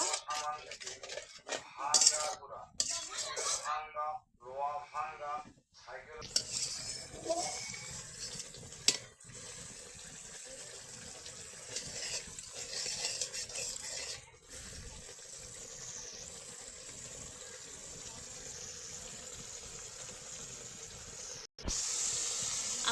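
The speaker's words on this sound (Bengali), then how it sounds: "মশলাটাকে এখন মশলাটাকে এখন ভালোভাবে কষান করে নিব" A spice paste fries in a pan for a traditional Jamalpur broken-rice dish, giving a long, steady hiss broken by intermittent scraping and metallic stirring knocks.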